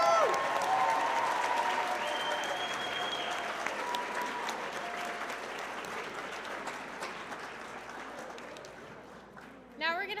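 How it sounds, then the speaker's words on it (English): An audience at a charity poetry slam applauds the learners, a sustained wave of clapping and cheering that slowly fades and then swells again with a whoop at the end. "Let's give a big round of applause to all the learners and their poems tonight"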